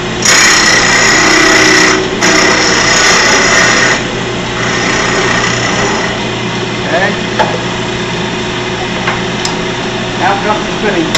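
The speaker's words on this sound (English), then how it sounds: "next thing is just going to trim it and clean the edge off" A spun metal piece has its edge trimmed and cleaned on a metal-spinning lathe, making a loud, harsh grinding for the first few seconds before it drops to a quieter, steady tooling whine with scattered scrapes.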